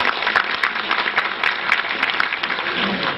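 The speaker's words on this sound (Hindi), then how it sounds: "प्लीज जोरदार तालियां हो जाए।" Steady, dense clapping from a crowd at an alumni get-together in Chandigarh, continuous applause at close range throughout with little else audible.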